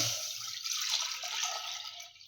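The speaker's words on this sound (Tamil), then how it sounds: "இப்போ சேர்த்துடலாம் பாலை" A litre of milk pours steadily into a pot for palkova for a couple of seconds, a close bubbling hiss that tapers off at the end.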